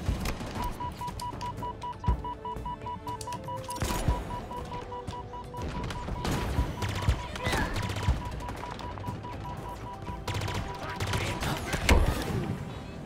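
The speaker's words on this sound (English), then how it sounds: "Yeah, I got sniped." Gunfire in the shooter game Halo Infinite, including sniper shots, with repeated sharp reports and bursts scattered through a busy battle mix, loud and near, with occasional electronic tones.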